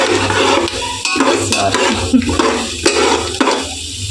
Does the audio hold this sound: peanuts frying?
yes